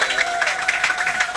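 A church congregation applauding, a brief burst of dense, steady clapping from many people filling the room, loud and continuous.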